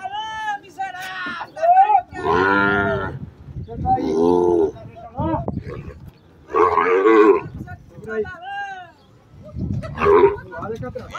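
Cattle at a livestock market unloading area in Tabira, Pernambuco, low repeated moos and bellows rising and falling across the scene, loud and near, with gaps between calls.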